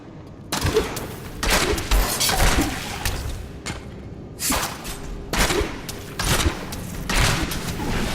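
Grenade attacks fired as a primary skill in Diablo III, loud dense bursts of explosive blasts and rattling impacts in repeated clusters with brief gaps between volleys.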